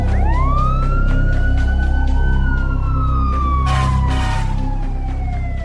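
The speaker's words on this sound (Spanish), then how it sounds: "La sirena de la ambulancia y el camión de bomberos se oyeron a lo lejos." Emergency sirens from an ambulance and a fire truck wail loudly over road traffic, one tone sweeping up and slowly gliding down while a rapid warbling siren pulses alongside.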